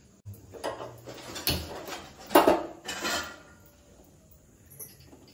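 A cooking pot set down on a gas stove in a home kitchen while preparing taro-leaf bhaji: a few close, sharp metallic clanks and clatters, then quiet kitchen background.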